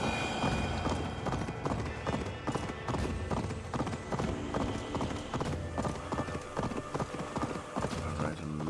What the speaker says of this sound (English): The horse was thundering in my ears for a bit.